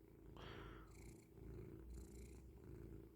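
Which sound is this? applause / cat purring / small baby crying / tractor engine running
cat purring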